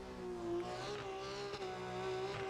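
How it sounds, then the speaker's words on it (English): A race car engine in the RENNSPORT sim racing game, lapping the Nürburgring GP circuit, holds a steady, buzzing high drone that shifts slightly in pitch, with faint tyre noise underneath. "Sometimes a bit of an issue with my game, it seems like, with the engine sound."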